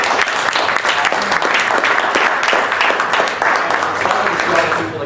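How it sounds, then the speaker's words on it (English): Loud, sustained applause from an audience at an evening local-history talk, with dense clapping holding steady for several seconds. "let's give him a round of applause."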